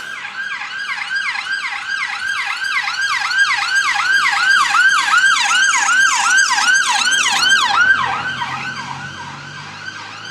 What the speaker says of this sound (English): I'm just keeping an eye out, listen out for this siren, because I don't want to get in their way